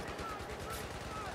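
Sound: Magnum revolver gunshots in Battlefield 4 video game

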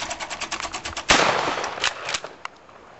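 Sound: Savage pump shotgun firing at clay targets

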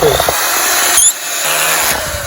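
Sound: power drill driving a screw into a wooden board

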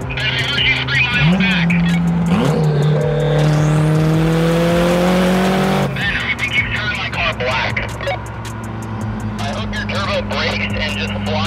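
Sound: car exhaust revving loudly

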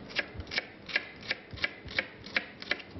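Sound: knife finely chopping a shallot

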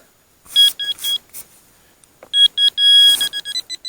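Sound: metal detector beeping signal

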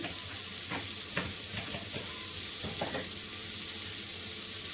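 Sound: masala and red chutney frying in pan

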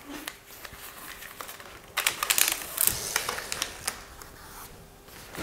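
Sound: pulling down a roll of photography backdrop paper

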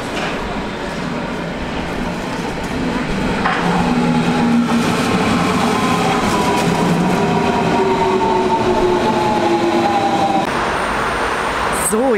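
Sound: S-Bahn commuter train ride

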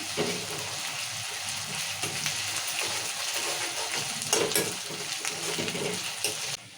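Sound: stirring ginger-garlic paste frying with onions in a pan

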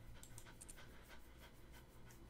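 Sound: dog panting

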